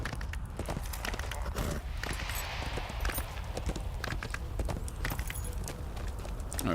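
Horse hooves clip-clop steadily in Lord of the Rings Online, a dense rapid run of hoofbeats at close range with a voice talking over part of it.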